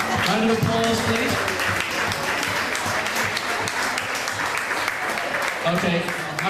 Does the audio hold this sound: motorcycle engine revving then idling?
no